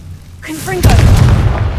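A Confringo spell explosion in the video game Hogwarts Legacy: a short rising magical whoosh followed by a deep booming burst that rumbles and fades, with a voice calling out just before it.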